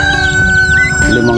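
Eight chicks and five young turkeys peep and cheep close by in a small netted enclosure, with a louder call near the end.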